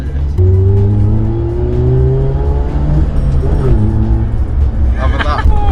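A Nissan Micra K11 fitted with cherry bomb exhausts drives along, its engine note droning loud and close, rising steadily in pitch as it accelerates and then easing back.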